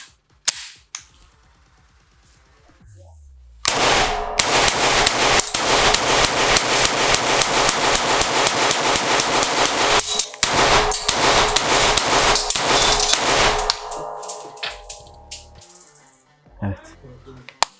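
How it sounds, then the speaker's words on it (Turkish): A Zoraki 925 blank pistol fires a long rapid burst of loud, sharp cracks indoors after a quiet start, followed by a few scattered shots, with people talking before and after. "Doldurdum bir deneyelim. Şöyle bir atış yapalım."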